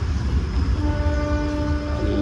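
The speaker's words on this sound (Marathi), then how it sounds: "इकडे सिद्धेश्वर उद्यान एक्सप्रेस आहे आलेली शाहबाद रेल्वे स्टेशनवर" Siddheshwar Udyan Express at Shahbad railway station, a continuous low rumble of the train with a sustained tonal hum or horn-like tone rising partway through, close and steady.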